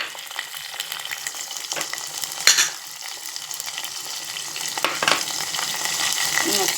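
Green chillies, dried chillies and hing sizzling in hot oil for tomato rasam, a loud continuous crackling fry with a brief clatter of a spoon against the pan partway through.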